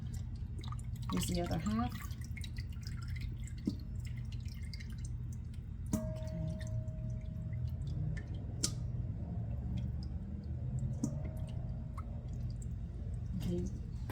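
Cooked chicken drains over a pot, with liquid dripping and splashing softly in irregular drops while a person talks quietly nearby.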